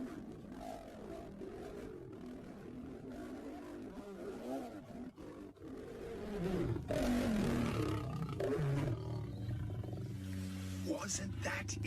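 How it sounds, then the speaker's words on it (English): Several male lions roar in the Masai Mara, a deep, grunting series of roars building in strength and rhythm, heard close over outdoor background with faint human voices. "We have a young male lion trying to join the coalition."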